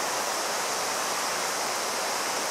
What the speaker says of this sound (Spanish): ahorita les voy a mostrar cómo está este río de hermoso